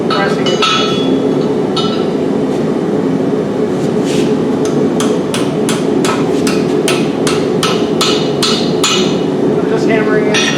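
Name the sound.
hammering metal to bend campfire tripod part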